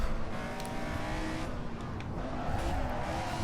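Race car in a sim racing game slowing for a corner on a dangerous track, a steady loud engine drone with tire noise running throughout, close and continuous with no talk.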